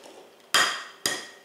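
Eggs cracked against cups for bacon-egg toast cups, heard as two sharp, close knocks about half a second apart, each with a brief ringing decay, and a third tap cut off at the end.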